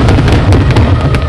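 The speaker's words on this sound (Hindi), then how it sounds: "एक टक लगाए हुए पटाखों को देख रहे हैं, लाइटों को देख रहे हैं।" Fireworks burst over Busan in a loud, dense barrage of booms and crackles, continuous and close, with a crowd murmuring faintly beneath.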